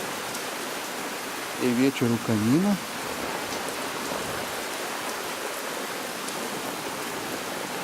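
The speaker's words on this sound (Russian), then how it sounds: "И буквально через несколько минут пошел дождь." Steady rain falls on a stormy evening in a continuous hiss, with a person briefly speaking over it.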